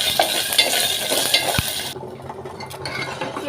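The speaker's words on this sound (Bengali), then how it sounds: "আর দিয়ে হাতাটা দিয়ে ভালো করে নাড়িয়ে নেবো" Tempering spices and chillies sizzle in hot oil while a ladle stirs them for dhokla: crackling frying for about two seconds, then a quieter stretch with light metallic clinks.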